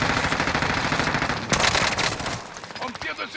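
Sustained automatic gunfire rattles in Call of Duty Modern Warfare on Rebirth Island, loud and continuous bursts with a sharp shot near the middle, fading into scattered fire at the end.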